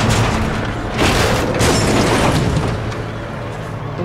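A loud bomb explosion in the Tales from the Borderlands video game: a heavy, roaring blast that swells after a second and then slowly rumbles and fades over several seconds.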